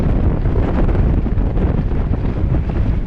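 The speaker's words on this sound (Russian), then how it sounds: "очень холодно и очень ветрено" Strong, cold mountain-ridge wind at Drahobrat buffets the microphone in a constant loud roar, gusting without pause for the full few seconds.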